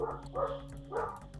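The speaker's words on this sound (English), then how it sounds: "Stop cheering for me, you stinking dogs." Dogs barking in the background of a Yu-Gi-Oh trading card game match, a few bursts of yaps and barks over a steady low hum.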